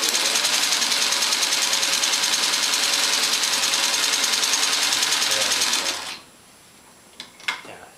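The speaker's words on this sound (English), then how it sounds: "you can hear already that the machine" A sewing machine with a very powerful motor stitching through a layer of denim, a loud, steady rapid hum lasting about six seconds, then stopping abruptly, followed by a few faint clicks.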